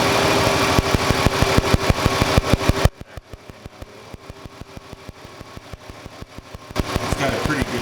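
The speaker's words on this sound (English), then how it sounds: "The misfire when I'm back probing ignition coil number 4 is really interfering with the microphone, as you can hear." A car engine runs with a heavy, irregular misfire while ignition coil number 4 is back-probed, giving a loud, rapid, uneven stream of pops and stumbles throughout, briefly quieter in the middle and then louder again.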